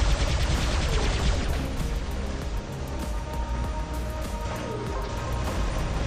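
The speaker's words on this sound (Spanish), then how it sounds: "Ok, vamos a ver, vamos a dispararle." Continuous rapid gunfire from the FAITER weapon in a video game on the remastered Shenzhen map, loud and dense with a fast, steady rhythm of shots throughout and no talking.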